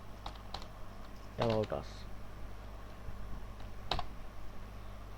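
Light keystrokes on a computer keyboard tap out a file name while someone talks, with a few quiet clicks before and after his voice.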